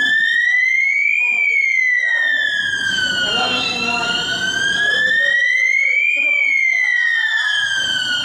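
A loud electronic fire alarm panel siren wails continuously, sweeping slowly up and down in pitch, steady and close, filling the whole stretch without pause.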